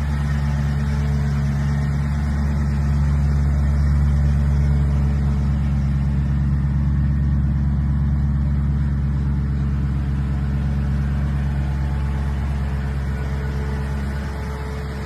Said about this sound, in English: So here's a little walk around video of the car running.